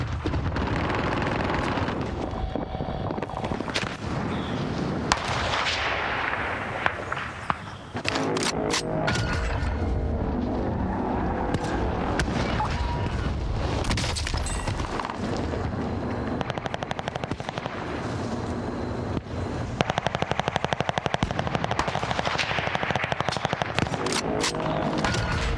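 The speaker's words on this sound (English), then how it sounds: "Bastards are shooting at me." Gunfire in Call of Duty Warzone, with loud sustained bursts of automatic and single shots, booming impacts and a thick, noisy battlefield mix running nearly nonstop for the whole stretch.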